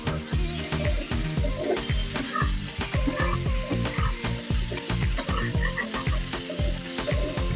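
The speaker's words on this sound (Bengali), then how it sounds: "এবার আমি ওই ভাজা মাছগুলো অ্যাড করে দিলাম, আরও একটু ভালো করে কষিয়ে নেব।" Fried snakehead fish and boiled potatoes sizzle loudly in a pan with tomato, and a spoon scrapes and stirs them in a steady repeating rhythm throughout.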